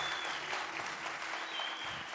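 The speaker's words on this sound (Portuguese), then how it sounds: "Pode aplaudir o nosso Deus?" Steady applause from a church congregation during a Pentecost service, a dense wash of many hands clapping at an even level throughout, with no speech over it.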